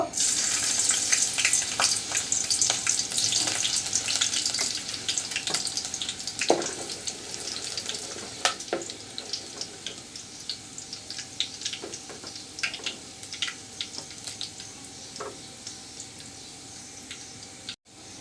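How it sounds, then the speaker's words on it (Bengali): Chopped garlic sizzles and crackles in a little oil in a cooking pot, a fairly quiet, continuous hiss with scattered pops and occasional clinks throughout. "এই তো রসুনটাকে আমি ফুরন দিয়েছি অনেকটা ব্রাউন কালার হয়ে গেছে"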